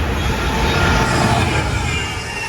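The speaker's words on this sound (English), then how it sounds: "Well, we've got another freight train," A freight train hauled by Class 66 locomotive 66556 rumbles through Bletchley station, a loud, continuous wash of wheel and wagon noise that holds steady before easing slightly.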